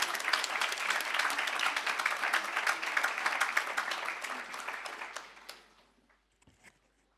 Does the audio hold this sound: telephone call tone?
no